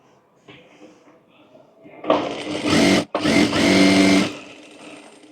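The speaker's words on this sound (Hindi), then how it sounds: "यहाँ पर देखिए यहाँ पर दोनों पार्ट में सिलाई लगा लेंगे हम।" Sewing machine stitching two fabric pieces of a summer co-ord set together, a loud steady mechanical whir running in two close bursts with a brief pause between, after a quieter stretch of handling and a voice.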